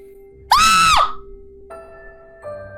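A person imitates a frog's scream with one loud, shrill, wavering yelp, followed by quieter electronic tones.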